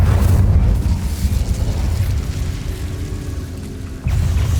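An Incendio fire spell erupts in Hogwarts Legacy with a loud, roaring blast that rumbles heavily, eases slightly, then surges again near the end.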